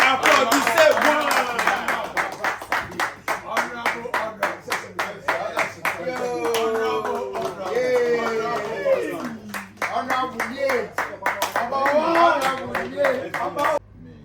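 Rhythmic audience clapping in unison at a political rally, a regular beat of claps running throughout, with a voice shouting and speaking over it.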